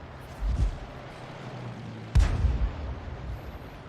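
A 105 leFH18B2 artillery gun in a video game fires twice, deep booming blasts about a second and a half apart, loud and close, the second sharper with a rumbling tail.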